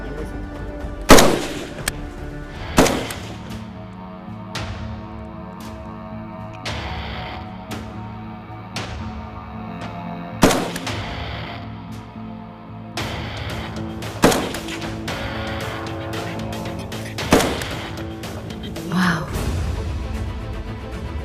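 Gunshots at an Indian Army training session, five or six loud, sharp single shots spaced a few seconds apart, with a voice speaking between them.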